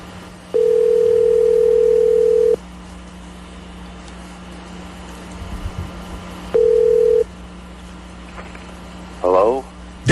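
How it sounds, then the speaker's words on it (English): Telephone dial tone switching on and off in two steady bursts as a number is speed-dialed, ending in a brief run of keypad tones, heard over background noise. "That's Randy putting him in speed dial"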